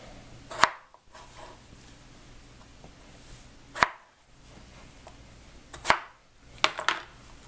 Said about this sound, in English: first what we're gonna do is we're gonna cut up our tomatoes for the food processor